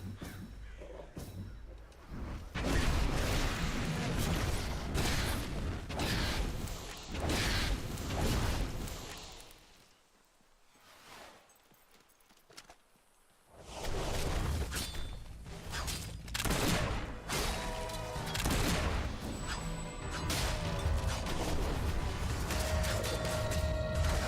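Mortar fire in the Fable 3 mortar minigame: dense, continuous booming blasts and rumbling explosions that stop briefly in a quieter gap, then start again just as heavily.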